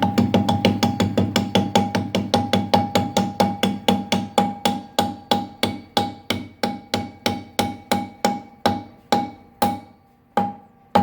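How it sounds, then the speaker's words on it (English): A small dead blow hammer taps a spacer into a carbon fiber motorcycle wheel, a dull, ringing knock, starting fast and steady, then slowing to spaced single blows toward the end. "We're just using a little dead blow hammer action."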